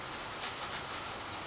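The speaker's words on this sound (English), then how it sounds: "Now once the train enters the approaching block" A model train rolling into a signal block on a layout, a steady rushing hiss with faint rail noise throughout, heard close with no talking.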